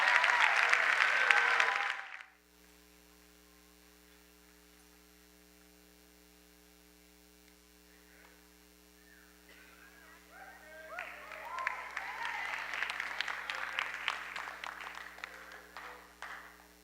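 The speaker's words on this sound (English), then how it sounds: "let's give one last round of applause for all of our honors" Applause in a chapel gathering for honors students: a brief burst of clapping stops abruptly, leaving a quiet stretch under a steady electrical hum, then clapping swells again and continues strongly to the end.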